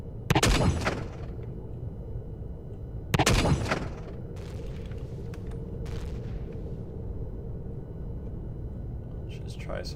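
Gunfire in Empyrion Galactic Survival during a night raid on a base, two heavy booming shots a few seconds apart followed by fainter bursts over a low steady rumble.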